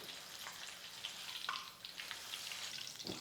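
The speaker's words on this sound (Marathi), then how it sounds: "तेल तापलेलं आहे झाऱ्यावर मिरच्या घ्यायच्या आणि तळायच्या" Green chillies frying in hot oil on a low gas flame, a steady bright sizzle and spatter with a faint clink or two, close and without speech.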